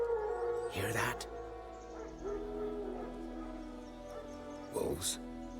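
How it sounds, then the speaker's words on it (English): Wild dogs bark in The Witcher 3, with two sharp broadband bursts near the start and end over a steady game ambience and music bed, moderately close. "Wolves? No. Wild dogs."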